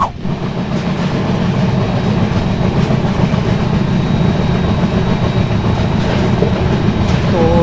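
Vasco Jasidih Express rolling along the rails, heard from on board: a steady, loud low rumble with continuous rhythmic clatter of wheels over track joints and occasional squeals, lasting throughout.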